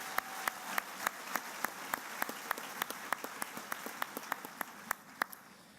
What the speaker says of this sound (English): Let's give them a round of applause, congratulations, and thank for all your dedication and hard work.